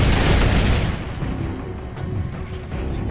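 Dense, loud bursts of video-game gunfire and impacts fill the whole stretch, strongest at the start and continuing steadily without speech.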